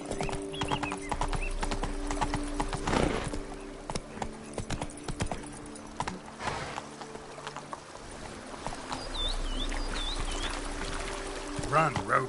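Hoofbeats of Roach, the horse in the video game Witcher 3, clip-clopping at a steady gallop up close, with a brief whinny and other game ambience around it.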